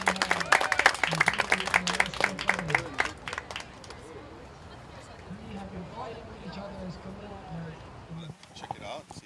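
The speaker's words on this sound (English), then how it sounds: "So let's give a round of applause." Audience applause at a sovereignty conference panel, a burst of clapping and cheers mixed with a voice talking, thinning out after a few seconds into murmuring room sound and speech.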